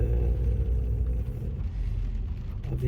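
A Mercedes W140 with a six-cylinder petrol engine and five-speed gearbox rolling into a garage, a close, steady low engine rumble filling the space.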